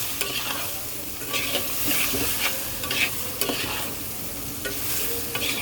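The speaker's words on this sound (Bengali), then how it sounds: "সাথে সাথে দিয়ে দেব আলু আর সয়াবিন আর কাঁচা লঙ্কা এইবার এইটাকে চলো সুন্দর করে মিক্সড করে দিই" Potatoes, soybean chunks and green chilies stirred in a hot pan, a soft continuous sizzle broken by repeated scrapes and stirring strokes of a spoon, close and moderately loud.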